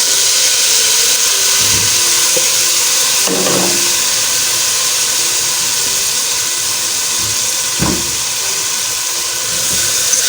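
Ground tomato and onion paste fries in a pan with a continuous bright sizzling hiss, broken by a few soft knocks and scrapes from stirring.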